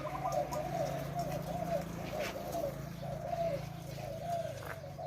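Inside a keeper's aviary, spotted doves repeat soft, rolling coos in a steady rhythm, several phrases in a row at moderate distance over quiet ambient noise.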